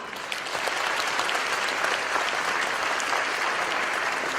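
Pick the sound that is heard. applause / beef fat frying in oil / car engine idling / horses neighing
applause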